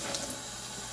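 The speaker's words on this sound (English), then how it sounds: "put a little bit of water in here" Tap water running into an emptied food can while goulash is being cooked: a steady, even rush of flowing water, close and moderately loud, with no talking.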